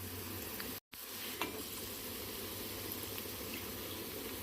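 Onion and green chilli frying in a pan for an ivy gourd curry, a faint, steady hiss with a brief dropout near the start and one soft clink of a utensil.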